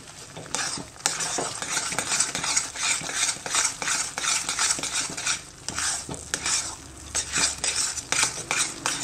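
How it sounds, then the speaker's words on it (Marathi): Moong dal halwa mixture stirred in a pan after milk and water are added, with repeated close scraping and clinking strokes of a spoon over a soft sizzle, steady and rhythmic without talk. "आता हे चांगलं मिक्स करून घ्यायचंय."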